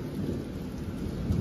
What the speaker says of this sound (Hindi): अब बारिश देखो, बादल देखो, कितने घने बादल हो रखे हैं और बारिश अभी भी हो रही है।